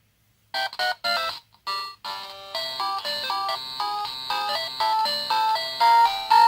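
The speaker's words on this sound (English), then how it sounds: "let's wait and see and hear what the alarm sounds like" A Nintendo Game Boy alarm clock beeps out a bright, chiptune-style melody, starting with a few short blips then a steady run of square-wave notes.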